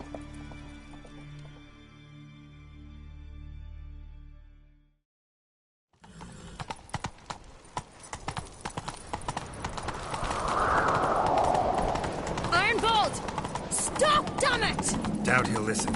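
Horses in a chase, with rapid hoof clip-clop starting after a brief silence and building in loudness and density, mixed with voices, music and other action sounds.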